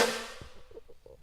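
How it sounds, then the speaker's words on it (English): A single Eptic-style snare drum sample hits hard at the start with a bright, noisy crack that decays quickly, followed by a few short, quieter tonal blips. "I think we did pretty good on the snare."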